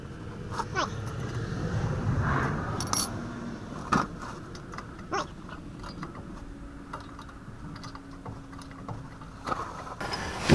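Hand wrenches loosening U-joint bolts on a Chevy S-10, heard as intermittent metallic clicks, clinks and ratchety taps over a low background.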